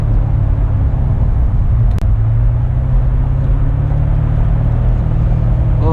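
A 2016 Chevrolet Corvette C7 Stingray in track mode sends a loud, steady low engine drone and rumble through the cabin after a downshift, with one brief sharp knock near two seconds and no talk.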